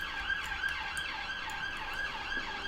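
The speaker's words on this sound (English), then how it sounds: "Whoop, whoop. It's the sound of the police." A police siren sounds outside with a steady rising and falling wail, somewhat distant and moderately faint, repeating through the whole stretch with no voices.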